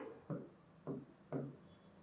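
Three short, quiet scratchy strokes of writing on a board, spaced at uneven intervals, faint and close with no talking.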